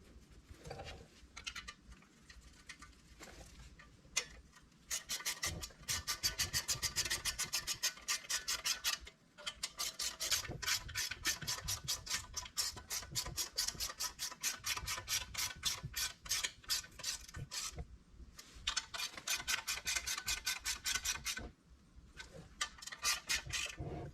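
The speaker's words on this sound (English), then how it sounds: "We'll get them somewhat tight and then tighten the rest of the way." A ratchet clicks in quick repeated runs while valve cover bolts are tightened on a Honda engine from a Ryobi pressure washer, close and fairly quiet, with short pauses between bursts.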